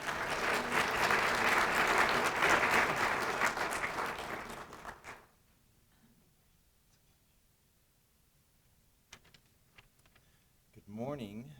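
Audience applause welcoming a speaker at an economic update event in Arvada, Colorado: steady dense clapping for about five seconds that fades out, followed by quiet room noise and a brief voice at the end.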